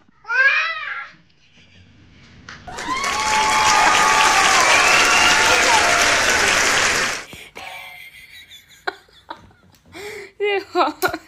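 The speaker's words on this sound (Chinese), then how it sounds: "鼓掌鼓掌！" A short burst of clapping lasts about four seconds at a home with young twins, set between children's voices and light chuckling before and after.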